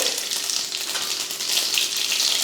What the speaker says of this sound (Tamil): கடுகு சீரகம் பொரிஞ்சதுக்கப்புறமா